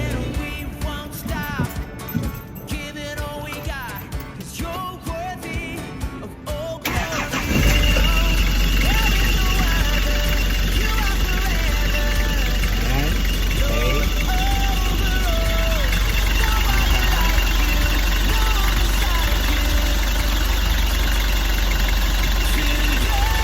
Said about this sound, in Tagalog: I-start natin yung makina.